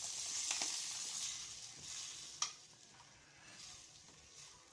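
Tomatoes fry in oil in a pan, giving a soft, steady sizzle with a few light stirring scrapes and one brief clink, close but quiet, with no talking.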